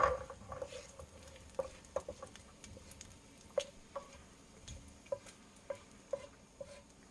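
Bacon pieces rendering in a pan: a quiet background sizzle dotted with irregular sharp pops and spatters, close but faint, no voices.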